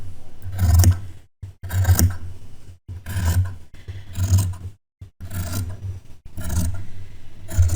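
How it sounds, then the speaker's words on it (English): Large fabric scissors slice through fabric in about seven rasping strokes, each a close, crisp cut followed by a short pause as the blades reopen, with no voices. "I am using my large fabric scissors, and I'm going to rotate it here"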